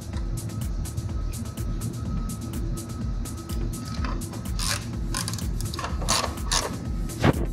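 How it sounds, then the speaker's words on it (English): A ratchet tightens the front bumper bolts on a 2014-2016 Lexus IS250, giving rapid repeated clicking strokes in bursts over a steady background hum, close and fairly loud. "Tighten it up."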